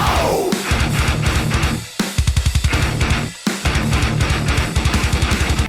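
Easycore pop punk plays loud and dense, with distorted guitars over chugging, stop-start rhythmic bass and drums, dropping out briefly twice before slamming back in.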